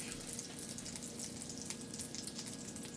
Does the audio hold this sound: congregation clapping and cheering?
no